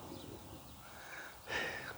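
Faint birds call and coo in an open grain field, with a brief brighter chirp near the end over a steady breezy background.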